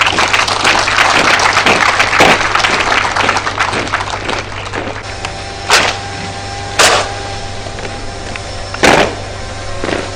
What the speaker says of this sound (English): these young fellows deserve your enthusiastic